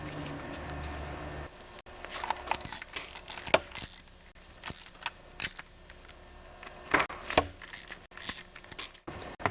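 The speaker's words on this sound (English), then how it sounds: "And now make sure you tighten them up real tight." Bolts being tightened on a snowblower friction disc during a repair, a series of close, irregular ratcheting clicks and metallic taps with brief pauses between turns.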